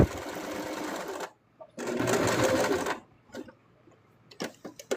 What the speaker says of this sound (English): I have to sew just a little bit more in so I can get a rounded top